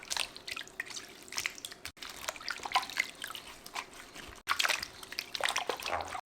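Gloved hands scrub altari radishes in water. Close, busy splashing and dripping runs in three bursts separated by brief silences, with no speech.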